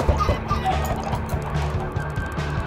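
Repeated clucking bird calls in a steady, rapid rhythm, like Minecraft chickens cackling in quick bursts over a low background drone.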